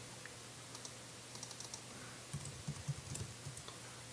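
Typing on a computer keyboard to enter a web address, heard as a faint, uneven run of light key clicks that bunches into a quicker burst toward the end, with no voices.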